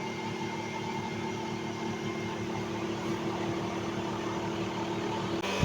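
Two electric fans powered by a single solar panel hum together in a steady, unbroken drone with a low motor buzz, running close by with no voices.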